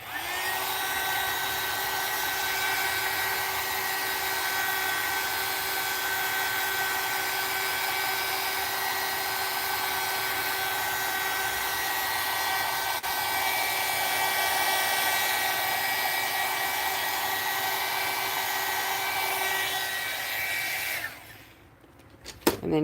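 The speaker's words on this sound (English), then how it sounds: "have your air dryer handy" An air dryer blows steadily to dry and set wet paint on an art background, a continuous whirring hiss that runs unbroken for about twenty seconds before switching off with a clatter.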